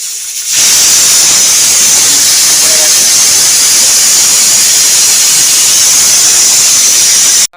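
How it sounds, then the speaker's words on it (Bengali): Mutton boiling in a pot during a family festive cooking gathering, giving a loud, continuous close steam hiss that starts abruptly and holds steady until it cuts off. "এখানে তেল গরম হচ্ছে আর এখানে মাটনটা এখানে সিদ্ধ হচ্ছে"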